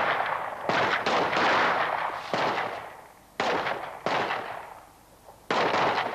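Rifle shots ring out on a military firing range, a string of loud close cracks with long rolling echoes, some overlapping, fired at an uneven pace.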